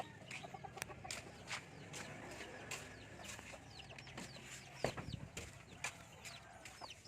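Chickens and small chicks cluck and peep faintly in a quiet farm enclosure, with scattered short calls and light rustling throughout.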